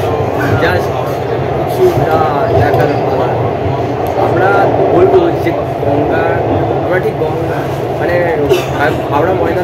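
The Kolkata underwater metro train runs through its tunnel beneath the Ganga, a steady, loud rumble and whirring cabin drone that continues throughout beneath people talking nearby.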